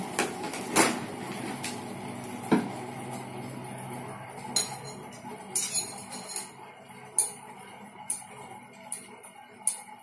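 Spoon tapping a glass plate in a school sound-reflection experiment, giving sharp bright clinks at irregular intervals, several strong near strikes early and lighter repeated taps later, with no talk.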